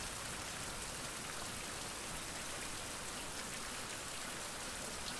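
Rain falls steadily in a survival video game, a dense, even hiss of drops on surfaces that stays constant and fairly quiet, with no voices.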